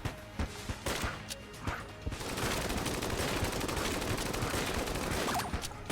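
Rapid gunfire in the twin-stick roguelike Enter the Gungeon, with a few sharp separate shots up front, then a dense, steady barrage of overlapping blasts that continues to the end.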